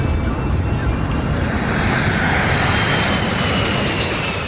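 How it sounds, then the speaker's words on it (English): Airliner accelerating down the runway toward takeoff, a loud, steady, broadband engine roar with rushing wind noise that holds constant throughout, close and continuous. "In this case, the airplane is accelerating rapidly enough."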